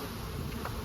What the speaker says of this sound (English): look at all these bees on here